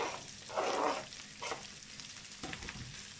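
Bell pepper and garlic hit a hot pan and fry for a vegetarian rice dish, giving a soft hiss with a louder sizzling burst early on and a few brief stirring scrapes afterward, with no talking.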